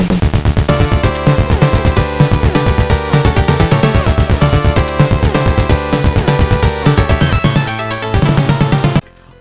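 Castlevania III Japanese Famicom soundtrack using the VRC6 chip's extra sound channels: dense, layered 8-bit chiptune with fuller harmonies and driving bass, loud and continuous before stopping suddenly at the end.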